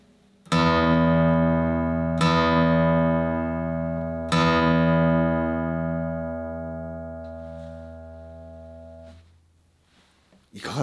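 A Japanese-built 2022 Seagull by M.Shiozaki SD-60 1937 Aged, a prewar D-28-style acoustic guitar, plays three low bass notes, each plucked close and left to ring out in a long fading decay with no talking.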